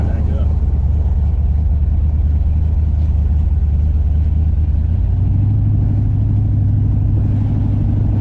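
A Chevy hot rod idles and runs with its exhaust cutouts open, giving a loud, rough, throbbing engine note that deepens and grows heavier about midway through.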